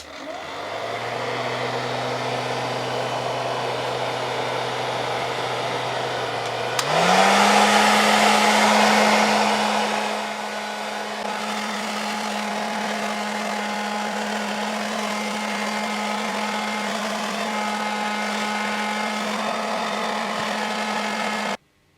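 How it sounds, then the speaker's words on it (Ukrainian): A loud 1.8 kW hot air blower runs steadily while heating a phone screen for repair, its whirring motor tone jumping in pitch and intensity partway through before settling into a constant drone, then cutting off. "для нагрів я буду використовувати такий ось фен"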